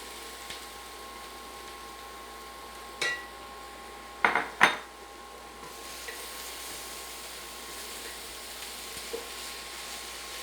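Cooked red beans tipped into a pan of stir-frying long beans, giving a few sharp metallic clinks and clatters of pan and utensil in a short burst amid a quiet, steady background hum.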